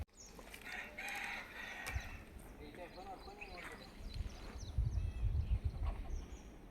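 Country chickens at a poultry farm of about 200 birds cluck and call in scattered bursts, with a rooster-like crow in the middle, while a person talks over them and footsteps or handling noises thump nearby.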